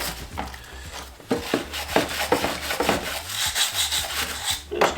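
A brush rubs debris off a Husqvarna 565 chainsaw in a run of brisk scratchy strokes, close and fairly loud, with no talk.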